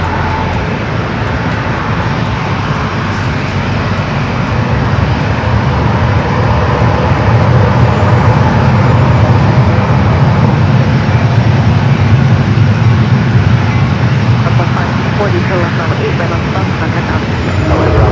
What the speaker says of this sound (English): the planes fly right above us